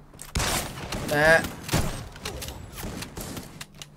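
Gunfire in the Free Fire video game during a scrim match: a few sharp shots and thuds ring out over an excited commentator's voice that keeps talking throughout.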